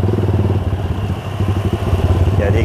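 Custom Yamaha Scorpio 225cc motorcycle engine running close by with a loud, throbbing, slightly clattery mid-pitched beat that rises and swells in bursts.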